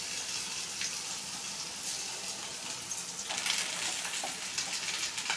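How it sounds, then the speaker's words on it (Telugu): Pasta frying in a pan while being stirred, giving a continuous close sizzle with soft scraping and stirring textures that swell a little in the second half, with no talk. "మనము ఇప్పుడు పాస్తాలు వేసుకున్నాము దీంట్లోకి."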